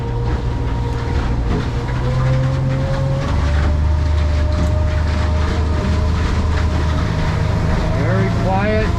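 A 2022 Boulton boat powered by an F250 outboard runs through short chop near 4,000 rpm, the engine droning steadily with shifting pitch as the hull thumps and water rushes past, while someone talks over it.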